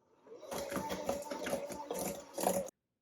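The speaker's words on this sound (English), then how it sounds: "Then I'm just gonna beat that in with my mixer again." An electric hand mixer whirs as it beats an egg into creamed butter for chocolate chip cookies, a close buzzing motor with uneven rhythmic pulses for about two seconds before it stops abruptly.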